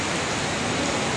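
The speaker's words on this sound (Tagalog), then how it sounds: "maulan lang ngayon" Steady rain falling outside a venue in Pasig, a dense, even hiss with no breaks, fairly loud and close.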